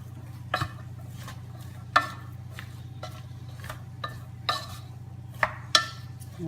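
A spoon scrapes and clinks irregularly in a pan of onions seasoned with salt and pepper, several sharp stirring taps over a low, steady sizzle, close and fairly quiet.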